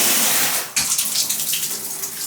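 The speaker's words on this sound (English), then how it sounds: "I'm going to turn on the water to test it and see if there's any leaks" Water sprays from a newly reinstalled shower head in a home bathroom, a loud, close, hissing rush that dips briefly and then surges back with splashing.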